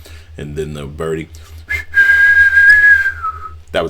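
A person whistles in imitation of the bird sound effect from a song: a few short chirpy notes, then a long sustained whistle that bends downward, close and fairly loud.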